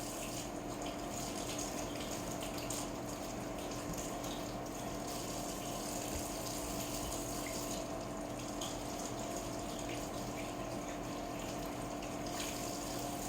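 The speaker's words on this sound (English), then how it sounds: "I like to rinse my meat." Tap water runs steadily into a sink while pork chops are rinsed, a constant even gush with no talking.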